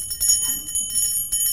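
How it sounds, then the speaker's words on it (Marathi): A small brass puja bell rings continuously with rapid, bright metallic strokes during a Hartalika Teej aarti, close and clear with no voices over it. "घंटा वाजवायची निरांजन ओवाळायचं"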